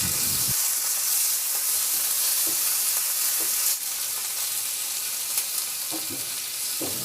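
Pork chops fried and returned to a pan of sautéed onions, sizzling in a steady, loud broadband hiss with occasional stirring clicks and scrapes, continuous throughout.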